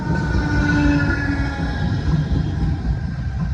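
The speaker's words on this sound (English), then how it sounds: "Whilst here we have another class 455. 455729 is going to Hampton Court via Wimbledon." A British Rail Class 455 electric train at Clapham Junction, a steady loud rumble of rolling stock with faint wheel tones running throughout, no speech.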